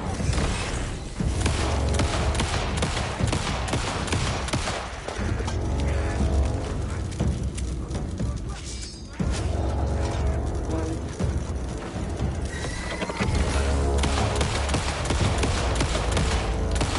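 Gunfire in the video game Alan Wake 2, with several shots and booms set in a loud, dense mix of game sound and music, and intermittent talk over it.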